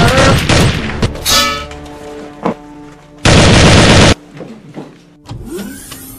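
A gunfire volley in an Avengers fan film: loud, close shots crack out in scattered bursts, with one dense sustained burst of fire in the middle and rougher rumbling between the shots.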